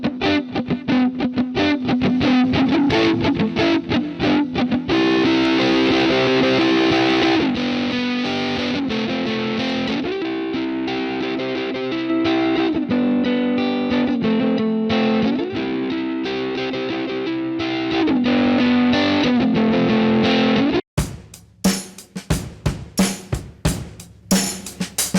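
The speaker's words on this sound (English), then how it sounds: "enhance your sound with some tube saturation" Dense, saturated tones processed through the free Taratube tube saturation plugin, held for about twenty seconds with shifting chords, then breaking into a few sharp, punchy hits near the end.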